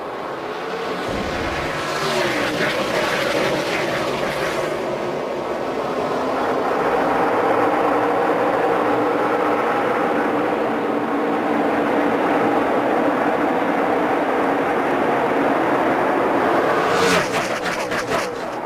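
Loud, steady roar of NASCAR stock cars racing at Texas in 2012 as the field goes green on a restart with 19 laps left, engines droning continuously and swelling throughout with no let-up.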